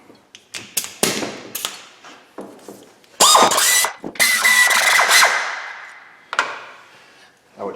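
A Subaru engine that was run out of oil, started with its belts loosened, gives sharp metallic clanks and bangs followed by a few seconds of loud rough running that dies away, then scattered knocks.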